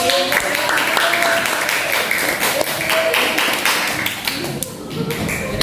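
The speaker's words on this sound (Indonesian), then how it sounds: "Ayo kita beri tepuk tangan dulu untuk kelompok." Classroom students clapping for a group after a maths presentation, a dense patter of hand claps with some taps, fairly close and steady, fading slightly near the end.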